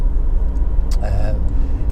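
A Honda CR-V 2.0 i-VTEC SE petrol engine with nearly 112,000 miles runs at a steady idle, giving a low, even rumble close by, with a faint voice briefly over it.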